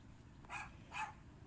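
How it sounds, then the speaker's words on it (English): A dog barks twice in quick succession, two short, faint yips from a distance, spaced about half a second apart over a quiet low background. "Dog."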